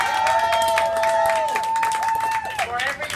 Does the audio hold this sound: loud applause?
yes